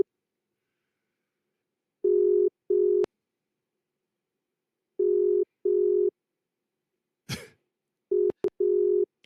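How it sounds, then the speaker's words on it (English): A phone line rings with three pairs of short electronic tones repeating at regular intervals, interrupted once by a brief cough and a couple of clicks. "Yes, it's ringing."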